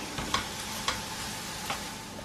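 Cabbage, onion and garlic sizzle in a frying pan for bacon and cabbage spaghetti, a steady close fry broken by a few light scrapes and clicks of stirring, with no one speaking.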